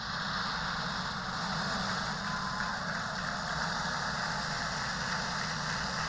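SpaceX Falcon 9 rocket engines at liftoff of the CRS-29 cargo mission to the ISS make a steady, broad, distant roar and rumble that holds evenly throughout.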